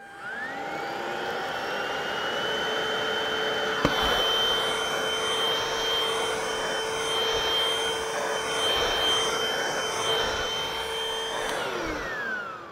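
A Hoover Freedom stick vacuum runs steadily with its small electric turbo brush attached, a loud whining motor hum with a sharp click near the middle, spinning down abruptly at the end.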